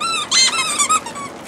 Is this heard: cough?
no